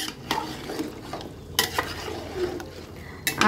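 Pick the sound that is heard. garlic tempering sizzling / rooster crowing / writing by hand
garlic tempering sizzling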